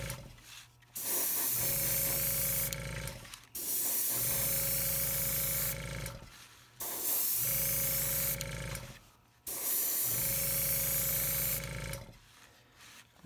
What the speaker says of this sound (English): this video is not going to be very fun every time the compressor kicks on